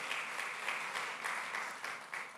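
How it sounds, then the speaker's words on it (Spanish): A church congregation claps together during a worship service, a dense, steady burst of applause that carries on for a couple of seconds at moderate loudness. "¿qué tal si le damos un aplauso al Señor?"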